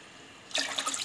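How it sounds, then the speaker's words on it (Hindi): Two glasses of water poured into a thickening sweet potato chaat mixture cooking in a pot, a sudden hissing splash that starts partway through and continues steadily to the end. "अब हम इसमें डालेंगे 2 गिलास पानी"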